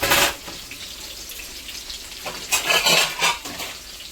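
Fish slid into a pan of tomato and chilli-powder masala sizzles in short bursts, a sharp hiss at the start and a louder crackling flurry later, close by with no talking.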